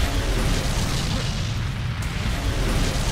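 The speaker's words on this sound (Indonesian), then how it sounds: "mobil pun meledak" A car bomb explodes in a film scene as a dense, sustained roar of low rumbling blast noise and debris, loud and continuous for the whole few seconds without any speech over it.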